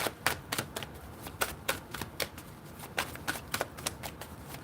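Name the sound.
shuffling a deck of tarot cards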